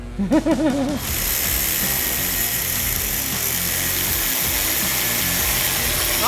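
A power saw cuts through a metal tube on a vehicle in a workshop, opening with a few short revving pulses before settling into a loud, continuous grinding whine that lasts to the end.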